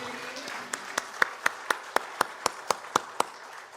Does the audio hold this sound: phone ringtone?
no